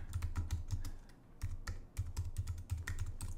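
Rapid clattering keystrokes on a computer keyboard as a kubectl alias is typed in a terminal, close and fairly loud, in uneven bursts with a brief pause near the middle and no talking.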